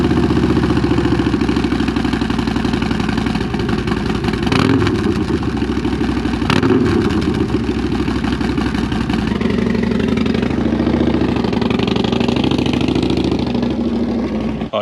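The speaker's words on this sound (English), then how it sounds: "Let's give the old Harley a cold start." An old Harley motorcycle engine cold-starting and settling into a loud, steady idle, close by, with a rough low rumble running throughout and brief revving swells.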